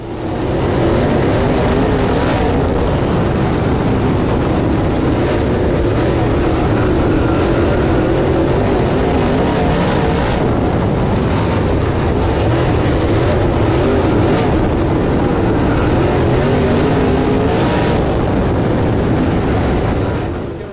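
Race cars roar around Whynot Motorsports Park during the HTF Series House Divided Twin 40s, a loud, continuous engine drone from the packed field with no voices audible.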